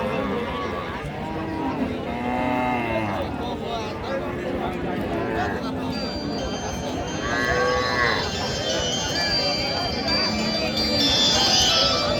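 Sahiwal cows moo several times, near and fairly loud, at a busy rural cattle market in Raniganj, Dinajpur, while people talk continuously around them.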